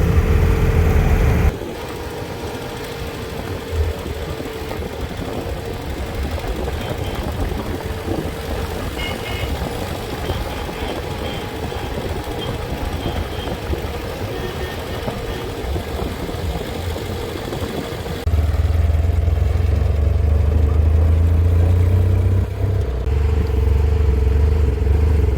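Citroën Doge being driven around the Citroën test centre at La Ferté-Vidame, its engine a steady mid-range hum with some rattling, rising to a louder, deeper rumble near the end; no talking.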